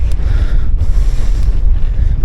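Steady, loud wind buffeting a microphone outdoors during a bicycle ride along green paths, a continuous low rumbling roar with gusty swells and no voices.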